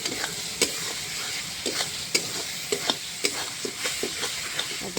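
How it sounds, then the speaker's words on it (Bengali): Stone-ground spice paste and chopped tomato being sautéed in a pan, a steady sizzle broken by repeated scraping strokes of a spoon, close and fairly loud with no talk. "ভালো করে আমি মশলাটা কষিয়ে নেব।"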